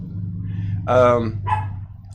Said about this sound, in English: Oh, your dog went crazy.